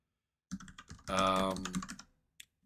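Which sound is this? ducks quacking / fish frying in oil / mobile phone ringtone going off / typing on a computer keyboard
typing on a computer keyboard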